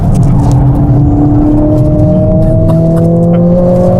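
A Mercedes-AMG accelerates hard on the Nürburgring with its automatic gearbox, a loud, steady engine roar heard from inside, its tone rising smoothly as revs climb.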